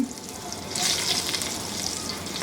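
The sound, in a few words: eggplant shallow frying in hot oil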